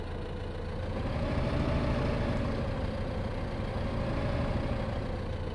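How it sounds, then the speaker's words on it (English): A tractor engine in Farming Simulator 15 labors steadily while pulling trees out of a field, a low droning rumble with a faint rising and falling tone, moderately loud and continuous. "I'm hoping the tractor has got the power to do this."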